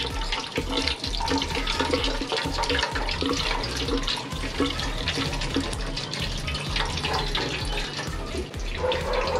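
Coolant drains from the radiator of a Raider 150 Fi motorcycle in a steady, continuous splashing stream that stays fairly loud and even throughout, with no talking.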